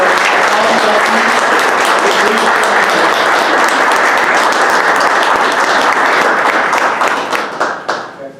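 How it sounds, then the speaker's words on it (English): Sustained applause from an audience at a Collegiate 100 chapter induction ceremony honoring new inductees, a dense, steady wash of many hands clapping that thins out and fades over the final second or two. "Let's have a round of applause for all inductees."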